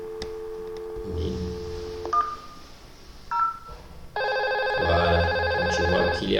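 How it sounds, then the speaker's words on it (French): A telephone is used to dial an internal extension between an office branch and headquarters. Several short dialing tones sound one after another, then a loud, steady ringing tone starts and continues to the end, with no voices. "je vais essayer de joindre le téléphone au numéro 1000 de l'agence"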